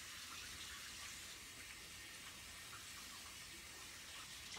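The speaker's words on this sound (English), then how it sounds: "Enjoy the serene sounds of the faucet in the background." Bathroom faucet running steadily, a soft continuous hiss of flowing water, quiet and unbroken with no voices.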